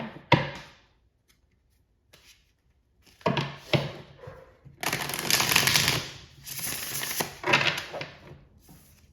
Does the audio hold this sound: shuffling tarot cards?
yes